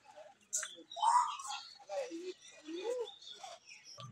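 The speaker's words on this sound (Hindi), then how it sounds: "मकाऊ है।" A macaw calls from an aviary at Lucknow zoo, several sharp, scattered squawks and chirps at moderate distance, with faint voices nearby.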